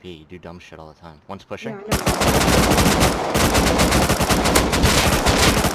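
Rapid automatic gunfire from a PvP firefight in the survival game Rust, loud and dense bursts following a few seconds of talking, continuing steadily to the end.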